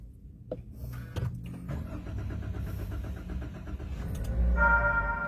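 A 1.3-litre Daihatsu Xenia 2022 manual engine cranks with a near, busy mechanical clatter, then catches and settles into a steady idle hum that swells slightly toward the end.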